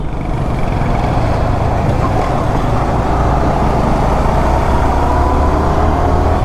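Dense road traffic rushes past a rider on a Yamaha R15 motorcycle on a highway, a loud, continuous engine and wind roar with no break.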